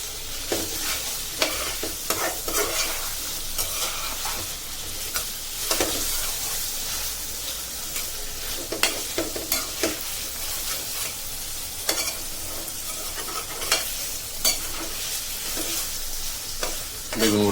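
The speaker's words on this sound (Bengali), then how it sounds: "বেগুনগুলো আগে ভালোভাবে ভাজা হোক" Eggplant, onion, garlic and green chilies fry in hot oil with a loud, steady sizzle, broken by repeated scraping stirs of a spatula against the pan.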